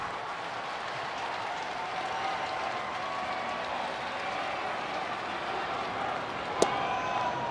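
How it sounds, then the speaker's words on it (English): Crowd noise at a Cardinals versus Reds baseball game swells as a steady, distant roar of cheering fans, continuous and even, with a brief sharp crack late on. "You can hear the crowd getting back up into this one."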